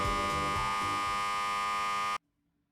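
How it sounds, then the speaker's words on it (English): A single sustained electronic buzzer from the Cupid Parasite game rings loud and steady for about two seconds, signaling a movie start, then cuts off abruptly into silence. "Right then, the buzzer rang,"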